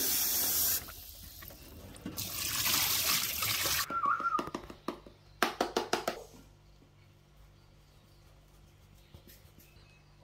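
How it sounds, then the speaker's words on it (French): Food being rinsed under running water in a home kitchen while a sweet potato gratin and grilled meats are prepared. A steady hiss of tap water gives way to wet handling noises and a few short splashes, then quieter clinks. "On rince un peu."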